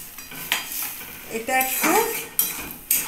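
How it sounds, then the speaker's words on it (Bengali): A utensil scrapes and clinks against a pan as red lentils are stirred into a spice mix with curry leaves, producing several sharp metallic knocks and soft scraping strokes at close range, with no talking. "এই ডালটা এই মশলার মধ্যে কষিয়ে নিলাম।"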